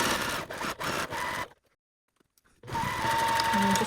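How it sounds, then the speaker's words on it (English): Sewing machine stitching a straight line down the middle of a page of a fabric-scrap quilt-block organizer, running in two steady bursts with a short silent pause between them. "then I'm gonna sew straight down the line, right in the middle of that page"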